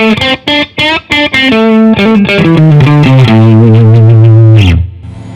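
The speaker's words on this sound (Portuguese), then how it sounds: "Som de blues bem legal. Captador agora do meio." Electric guitar on its middle pickup plays a blues phrase through effects with a slightly driven tone: clipped staccato notes first, then sustained bends and held notes ringing loudly before a quick cut-off.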